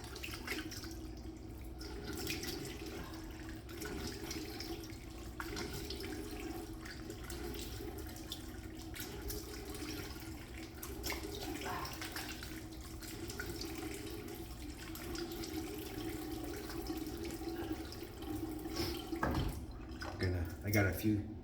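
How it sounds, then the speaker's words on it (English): Cold tap water runs steadily into a sink with soft splashes and drips as a man rinses his face after shaving, a low continuous wash with occasional louder splashes near the end. "Rinse off with cold water."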